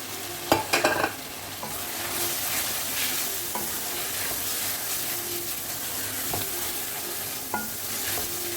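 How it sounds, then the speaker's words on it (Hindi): A steady frying sizzle as boiled chickpeas go into a thick masala, with a few clattering knocks near the start and occasional stirring scrapes later. "अब हम इसमें ऐड कर देंगे उबले हुए चने।"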